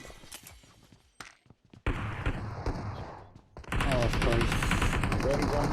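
Gunfire in the PUBG Mobile battle royale game, including shotgun blasts, comes as sharp bursts of shots: scattered early, then a loud sustained volley of rapid fire near the end, mixed with game sounds.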